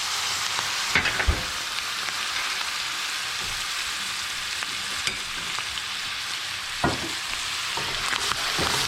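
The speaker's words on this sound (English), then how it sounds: "Let that cook, all that alcohol cook out and get burned by the flames coming up." Dry white wine bubbles and sizzles in a hot pan over open flames, a steady close frying hiss with occasional clinks and scrapes of the pan and utensil, with no talking.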